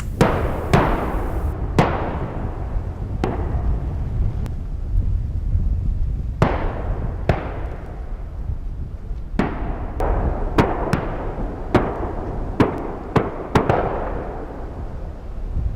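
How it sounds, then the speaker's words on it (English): Shotgun blasts from duck hunters at Stillwater Marsh, a dozen or so sharp reports at irregular intervals, some close and loud, others distant, each echoing off the surrounding hills, with no voices. "Gunfire rang off the surrounding hills as hunters found good"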